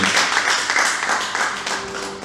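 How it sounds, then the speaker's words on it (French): Audience clapping and acclaiming at a gospel open-day gathering in a hotel hall, a sustained dense patter of many hands filling the room with no speech over it. "Un temps d'acclamation pour l'équipe de Dieu."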